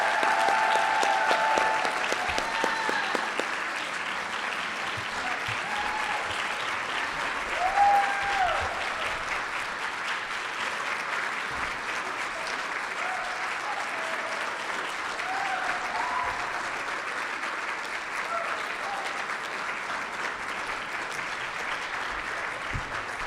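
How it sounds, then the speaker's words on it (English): Sustained audience applause fills a hall at a school Founders Day ceremony, honoring a Royal Helping Hand award recipient; steady, dense clapping from a large crowd continues evenly throughout at moderate loudness. "Please join us in giving this Royal Helping Hand recipient a round of applause."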